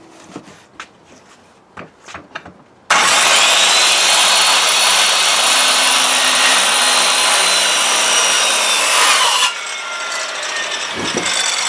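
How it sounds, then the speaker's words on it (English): A blade saws through wood for the hull of an old model boat, a loud, sustained rasping cut that runs for several seconds after a few faint knocks, then eases to a quieter scraping. "Draw a line down the other side and cut it from the other side because the blade doesn't go through."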